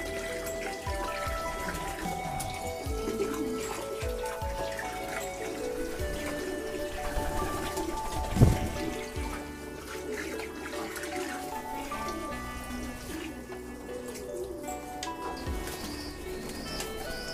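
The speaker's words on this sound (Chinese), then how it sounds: "给它多放一点吧，再加点水。" Water runs and splashes steadily into a tub for a pigeon bath, a continuous pouring rush with a brief louder splash midway, while pigeons coo faintly in the background.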